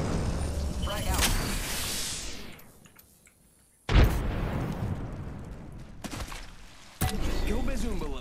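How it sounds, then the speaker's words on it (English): Loud explosion in the Apex Legends Mobile video game, a grenade blast bursting suddenly near the middle with a broad boom, amid continuous gunfire and battle noise, with a second sharp burst later. "Look out, grenade!"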